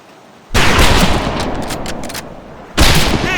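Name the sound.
rifle gunfire at a training range, from the video game Medal of Honor Pacific Assault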